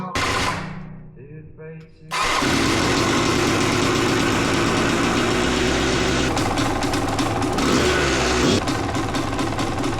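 A Yamaha YZ250 two-stroke dirt bike fitted with an electric start fires up after a brief quiet lead-in, then idles loudly and continuously up close with a rapid, rattly putter.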